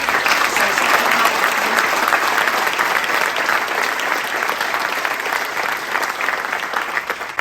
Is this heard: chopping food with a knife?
no